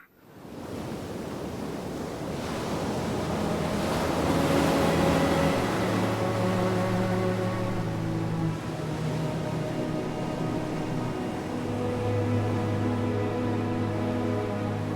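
Waves breaking on an exposed coastline, a steady loud wash of surf with wind noise and low rumbling swells, continuous throughout with no voices.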